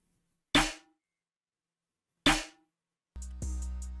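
Dry snare hits from a hard trap beat in FL Studio, with no delay or reverb: two short, punchy strikes with clean silence between them, followed by the start of a sustained tonal synth sound.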